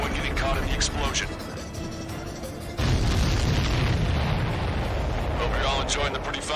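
Explosions in the jet combat video game Ace Combat 7 thunder as deep booms and bursts, with a heavier blast rolling in partway through, while radio voices speak over the din.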